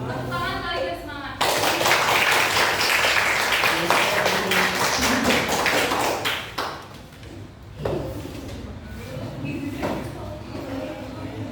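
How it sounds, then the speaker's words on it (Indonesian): A high-school class at SMK Boedi Luhur breaks into quick, dense clapping for several seconds, fairly close and loud. The applause then thins out as voices talk around it. "Tepuk tangan kali ya, semangat."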